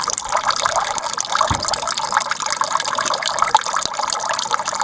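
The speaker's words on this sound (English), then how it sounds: "That's just dribbling out now" Water dribbling from an off-grid water tank into a bucket, a continuous splashing trickle at close range with no talk over it.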